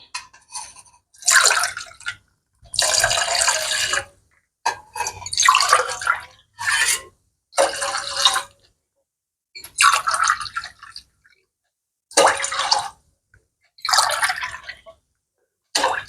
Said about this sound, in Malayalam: നാല് ഗ്ലാസ് വെള്ളം ഒഴിക്കാം.